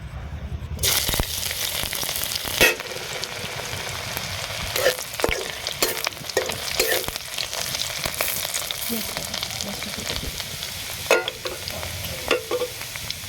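Chopped ginger and garlic sizzle in hot oil in a wok, a loud, continuous crackling fry broken by repeated scraping stirs.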